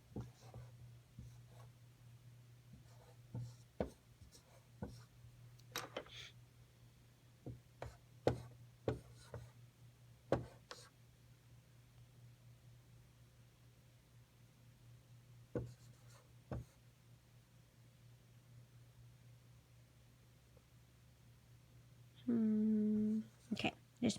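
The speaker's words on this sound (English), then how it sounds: "I'm going to write 2 different ones." A pen writes fraction statements by hand in faint, scattered scratches and taps over a low steady hum, with a brief voiced sound near the end.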